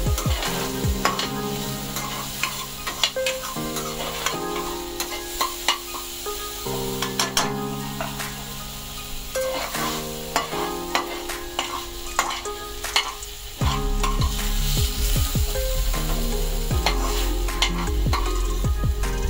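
Ground spice paste (vatan) for a Malvani wet cashew curry sizzles as it roasts in a hot pan while a spatula scrapes and taps repeatedly; the sizzle grows louder and brighter near the end.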